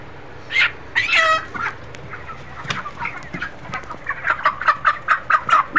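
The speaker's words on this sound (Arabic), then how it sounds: "دي فراخ بنيهات" Brown chickens cluck and squawk close by, starting with scattered calls and building into a quick rhythmic run of clucks toward the end.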